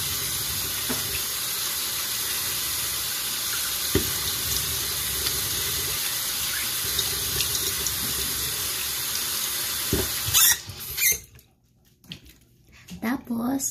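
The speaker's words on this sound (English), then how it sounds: "Wash your face with the soap." Tap water runs steadily into a sink while a face is washed with soap, a continuous splashing hiss that stops abruptly near the end, followed by a few brief wet sounds.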